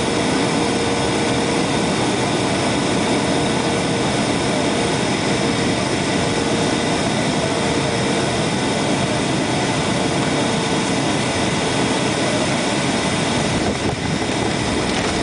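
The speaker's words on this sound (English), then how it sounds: "Okay, we're now touching down." Inside the cabin of a United Airlines airliner touching down at San Francisco, a loud, steady engine and air roar fills the whole stretch with no voices, shifting only slightly near the end.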